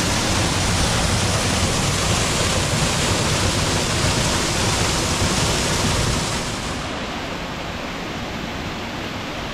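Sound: Bojanca waterfall rushing on Bohor

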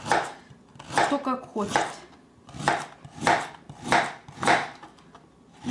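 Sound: knife slicing carrot into rounds

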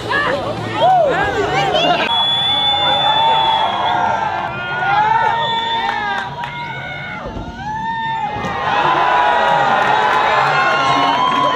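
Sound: crowd cheering wildly

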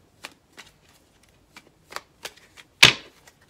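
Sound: tarot cards being shuffled for a draw

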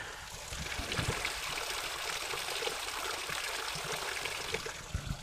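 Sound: mountain spring water trickling

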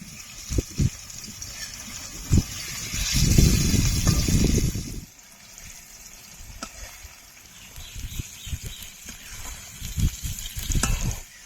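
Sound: paneer frying in oil

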